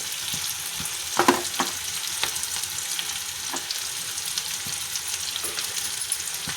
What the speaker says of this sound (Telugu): నెక్స్ట్ కరేపాకు వేసుకోవాలండి నెక్స్ట్ పచ్చిమిర్చి